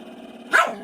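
A dog named Oliver gives a single short, close growl-like vocalization while his ear is rubbed, rising abruptly after a quiet moment and trailing off.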